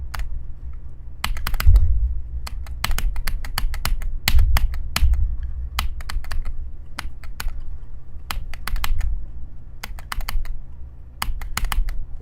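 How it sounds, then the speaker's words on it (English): Rapid mouse or keyboard clicks from playing the platformer Magma Bound, sharp close taps in uneven bursts and clusters over a steady low hum, with no talking. "I'm clicking instantly."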